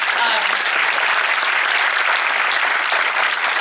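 A live audience at an actors' panel discussion applauds throughout, a thick, continuous wash of clapping that stays loud and close from start to finish.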